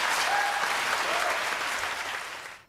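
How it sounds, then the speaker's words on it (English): GOP debate crowd roars and applauds in a dense, steady wash of clapping and cheering with a few whoops rising above, sustained throughout before cutting off abruptly at the end. "And a mighty roar goes up from the GOP crowd."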